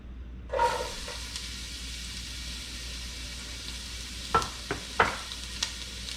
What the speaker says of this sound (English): now we are going to add our onions and our carrots. This is going to help called sweat the onions and soften them up.